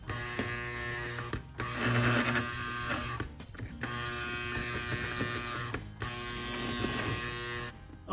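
A postwar Lionel toy train motor with a loose E-unit lever and a dirty motor hums and buzzes under power in bursts, cutting out briefly between runs, loud and close.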